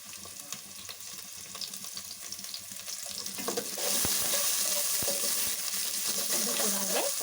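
Chopped onion sizzling and frying in a pan for masala idli, a steady close crackle that grows louder and denser partway through, with occasional sharp clinks of a utensil against the pan.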